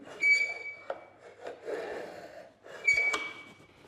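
Shear blades are sharpened on an MS1401 carbide sharpener, giving several short scraping forward strokes with a metallic ring, close and clear, spaced by brief gaps.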